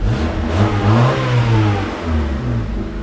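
A Honda Civic's aftermarket exhaust revs up close and loud during a sound test, the engine rising and falling through a few throttle blips before settling toward idle.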